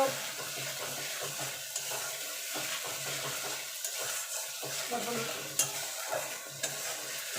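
A spoon stirs a mustard and poppy seed paste in a pan as it gently sizzles, soft steady scraping and frying noise at low volume with a couple of small clinks.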